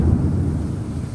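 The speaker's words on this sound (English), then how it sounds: "The thunder just went off when I said that." Distant thunder rolling low and steady for a moment, a broad dull rumble fading slightly, with no voices over it.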